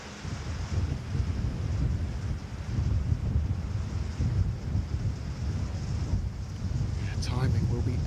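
Wind buffeting a microphone on a golf course during a women's amateur final round, a continuous low rumbling roar that rises and falls with gusts, with faint voices beneath it.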